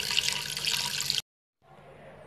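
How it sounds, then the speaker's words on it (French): Water splashes briefly into a cooking pot holding meat, a close, loud gush lasting about a second. A short silence follows, then a quieter trickle. "ensuite je vais y ajouter un peu d'eau"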